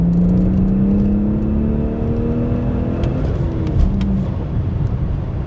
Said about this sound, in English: oh man, this car just rockets forward now